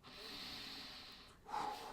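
Close, quiet breathing: a long, hissing exhale through the nose, followed by a sharper, snorting intake of breath.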